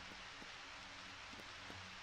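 Steady rain falling in the video game Harvest Moon Back to Nature, a soft, even hiss with faint scattered drops, quiet and continuous with no talking.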